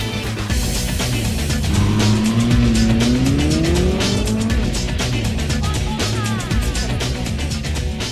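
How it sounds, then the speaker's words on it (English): A Ferrari 458 Speciale on 20-inch forged wheels is driven hard on a circuit through fast changes of direction, its engine note rising and falling continuously while tires squeal loudly throughout, close and with no talking. "the 458 Speciale is extremely effective in fast, challenging changes of direction."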